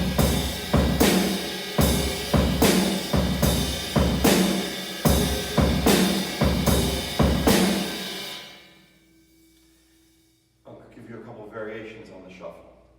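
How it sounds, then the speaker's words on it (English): Drum kit playing a shuffle groove where the bass drum carries the shuffle rather than the cymbal, steady repeating beats for about eight seconds before stopping, then a short quieter stretch of sound. "the main shuffle I play actually doesn't put the shuffle note in the cymbal"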